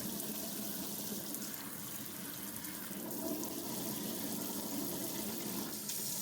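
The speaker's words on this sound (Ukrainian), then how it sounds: "Вмикаю воду і будемо тестувати. Перший режим." Tap water running steadily through a swivel aerator nozzle on its first flow mode, a close, continuous even hiss and splash into a sink with no pauses.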